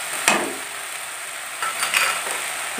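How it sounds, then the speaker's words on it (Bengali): Spice masala fries in a pan while being stirred, ahead of adding soybean chunks. A close, even hiss of frying carries a few sharp scrapes and clinks from the stirring. "নেড়ে চেড়ে নিতে হবে, মশলাগুলোকে কষিয়ে নিয়েছি"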